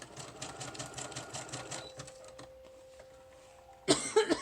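A sewing machine stitching through layers of paper gives a quiet, quick rhythmic chatter for about two seconds, then a faint hum, ending with a sudden cough close by.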